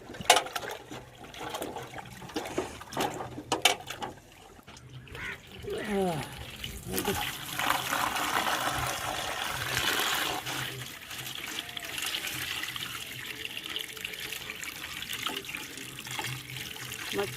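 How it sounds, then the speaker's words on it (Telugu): Tap water runs steadily while mud is washed off freshly dug tapioca roots at home, splashing and gurgling at a close, moderate level, with a voice talking over it. "మట్టి అంతా కడిగేసుకొని నీట్గా బాగా కడగాలి"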